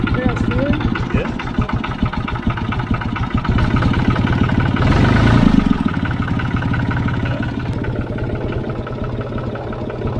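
A Fiat 55-66 4wd diesel tractor idling close by with a steady, even clattering chug, and a brief louder surge midway; people talk faintly over the engine.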